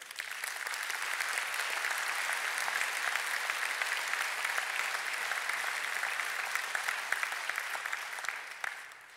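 An audience at a New Year's wishes ceremony applauds champion athletes, a steady, dense wash of clapping from a large crowd that holds evenly and fades slightly at the end.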